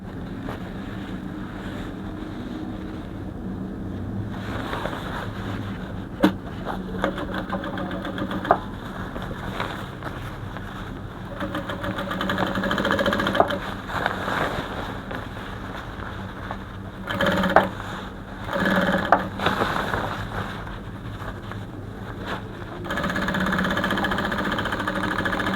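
Sewing machine stitching around the edge of a kimono dress, a steady mechanical whir running in stretches with short pauses and clicks, moderately loud and alone with no talking.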